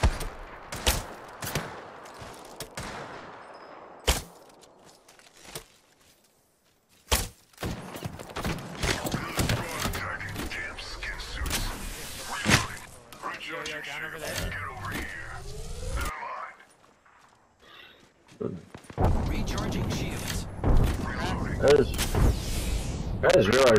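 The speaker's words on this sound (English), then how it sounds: "The enemies are shooting at me." Rapid bursts of gunfire from enemies in a first-person shooter video game, loud and close with sharp repeated shots and short pauses, mixed with in-game mechanical clatter and a player talking over it.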